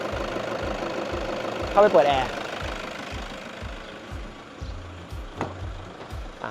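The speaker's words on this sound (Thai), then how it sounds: "อ่านี่เป็นเสียงเครื่องแบบไม่เปิดแอร์นะเสียงเครื่องพร้อมมาก นิ่มเรียบเพราะมาก" A 2012 Toyota Fortuner Champ 3.0V 2WD idles with its air conditioning off, giving a steady, smooth low rumble with a faint regular pulse throughout while someone talks over it.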